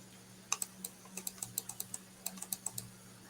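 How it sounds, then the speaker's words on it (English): Sharp clicks from bringing up a chat on a computer, about twenty in quick, uneven bursts, close and fairly crisp over a steady low hum. "You guys are hearing the clicking sound."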